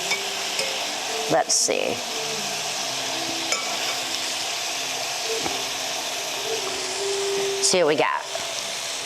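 Carrots frying in butter and brown sugar in a pan, a steady sizzle with stirring scrapes throughout, while a person talks over it.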